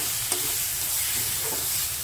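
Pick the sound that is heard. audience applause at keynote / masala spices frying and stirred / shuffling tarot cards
masala spices frying and stirred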